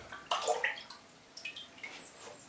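Water is poured and reused from a small container while watering orchids, producing faint, close splashes and short trickles in a few irregular bursts.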